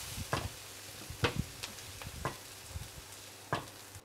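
Zucchini and carrot frying over high heat with other ingredients, a soft steady sizzle broken by several sharp stirring scrapes and clicks at irregular intervals.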